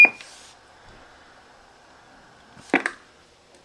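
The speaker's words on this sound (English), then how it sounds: "Nice high Galaxy standard Roger beep." Galaxy DX-2517 CB radio transmitting a high standard roger beep: a short bright tone at the start, a sustained carrier hum, then a brief burst of static at the end of the transmission.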